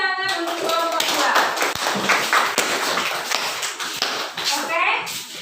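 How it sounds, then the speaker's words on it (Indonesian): Classroom applause for a student group, with scattered, uneven clapping from children's hands alongside background voices and shuffling. "beri tepuk tangan untuk kelompok 2"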